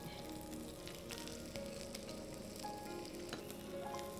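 Onions fry in a pan for Schezwan noodles, a continuous low crackling sizzle with a few faint clicks of stirring, steady and fairly quiet, with no one speaking.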